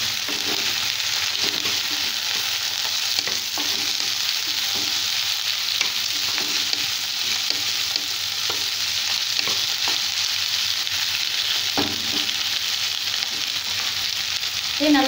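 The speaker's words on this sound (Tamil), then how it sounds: "இதே நல்லா வதங்கட்டும். கோவக்காய் ஓரளவுக்கு வதங்கிடுச்சு." Ivy gourd with salt sautéing in a pan, a loud, even hiss of frying that runs throughout, with scattered faint stirring clicks and scrapes, close up and uninterrupted.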